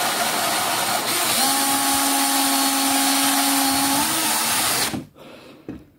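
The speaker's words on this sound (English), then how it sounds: "just going to grind the tops out of those, just using a countersink and a hand drill" A hand drill fitted with a countersink grinds the tops out of brass parts for a model steam engine, a loud steady whir with a rising pitched tone, then spinning down and stopping abruptly, followed by a faint click.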